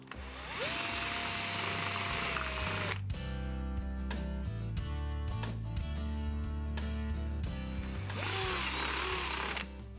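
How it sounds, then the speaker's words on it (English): A drill bores a hole through a plastic bottle cap for a concrete lamp build, with a loud high whine starting and stopping, and a lower grinding middle section as the bit cuts through. "we've finished drilling the hole"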